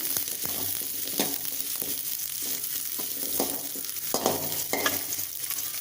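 Shallots sautéing in oil in a pan while cooking a South Indian brinjal curry, a steady close sizzle broken by several scraping stirs of a spatula, with no talking.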